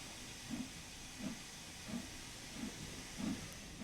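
A steam locomotive pulling away in Train Sim World 2, with regular soft exhaust chuffs, about one every two-thirds of a second, over a constant low steam hiss.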